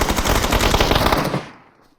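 Sustained machine gun fire in a PUBG battle royale fight, a dense rapid burst of loud shots lasting over a second before cutting off and trailing away into a short fading echo, with no talking.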